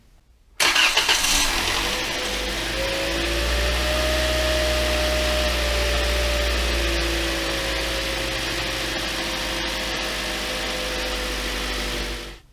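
A Toyota Corolla engine cranks and catches abruptly after a serpentine belt replacement, then settles into a steady, loud idle hum that runs on without pause.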